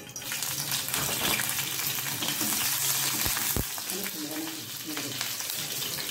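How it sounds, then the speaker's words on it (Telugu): Green chillies fry in an oil-filled pan on a stove while tamarind rice is being made, giving a steady close hiss with a couple of sharp crackles, constant and unbroken throughout. "స్టవ్ వెలిగించి బాణలు పెట్టాను దాంట్లో కొంచెం పచ్చిమిర్చి వేయాలి"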